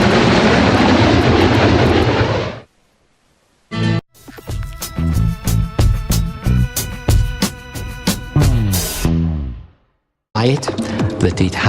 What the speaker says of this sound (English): I can't believe I'm flying a B-2.